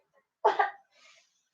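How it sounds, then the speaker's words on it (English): A short, forced cough from a small child, a single burst followed by a faint breathy trailing sound, close and fairly loud. "Don't you start your fake cough with me"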